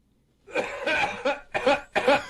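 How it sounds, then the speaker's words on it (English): A harsh, raspy cough in bursts, three or four hacking coughs in quick succession, close and fairly loud, set on the studio recording of Black Sabbath's Sweet Leaf. "There's a cough. That's a cannabis cough if I know one."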